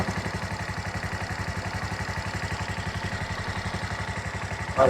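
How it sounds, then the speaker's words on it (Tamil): A motorcycle engine idles steadily with a low, even, chugging pulse throughout, close by and with no voices. "இந்த பைக்கு சவுண்ட் தான்"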